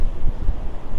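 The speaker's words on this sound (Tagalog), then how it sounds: "lakas ang hangin." Strong wind buffets the microphone while riding a MINAL MS601 full-suspension electric mountain bike on flat ground, a brief low rumbling gust that pulses unevenly.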